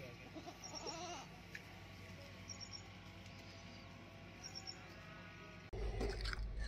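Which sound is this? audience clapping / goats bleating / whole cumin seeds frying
goats bleating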